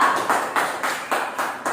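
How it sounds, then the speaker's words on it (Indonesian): A primary-school class gives applause for a student group after a cooperative folding task, heard as a steady patter of small-group hand clapping with rhythmic swells roughly every quarter second, close and fairly loud. "tepuk tangan buat kelompok 2"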